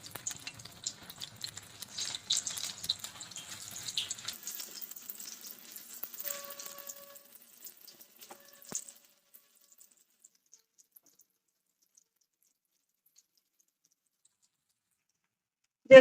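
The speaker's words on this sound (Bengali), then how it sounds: "এইভাবে ছোট ছোট করে আমি পকোড়াগুলোকে ভেজে নেব।" Small bok flower pakoras deep frying in hot oil in a kadai, a soft crackling sizzle for about eight seconds that thins out and fades to near silence.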